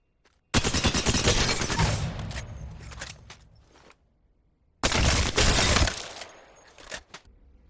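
Rapid automatic weapon fire in the Apex Legends firing range video game: two loud, dense bursts, the first lasting about three seconds and the second about one, separated by a brief quiet gap with a few faint trailing clicks.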